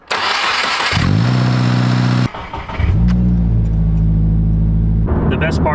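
A 2022 Subaru WRX fitted with a Perrin intake cranks loudly, catches, and settles into a deep, steady idle rumble, then flares briefly at the end with a rising rev, all close and loud.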